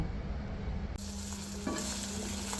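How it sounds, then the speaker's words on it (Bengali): An egg fries in hot oil in a pan, giving a steady, close sizzle that grows louder and brighter partway through, with no talking. "এখন আমি ডিম ভেজে নিচ্ছি, ডিম ভেজে তরকারি রান্না করব।"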